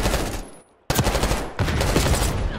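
Rapid bursts of loud gunfire rattle close by in the video game Call of Duty: Black Ops 6, a brief pause, then more sustained automatic shots in quick succession.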